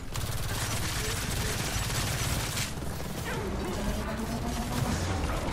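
A grenade detonates in the video game Gears of War 4 amid dense, continuous gunfire and crashing combat noise, the blast blending into a loud, busy battle mix with no clear pause.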